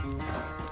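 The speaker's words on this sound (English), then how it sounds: "Damn horse acting up on me of all the times." Horse hooves clop in a brief burst over a dense low rumble, blended with other game sounds, in Red Dead Redemption 2.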